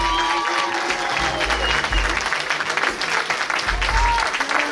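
An audience claps steadily throughout at a show finale, a thick wash of applause with some background voices and faint musical notes underneath.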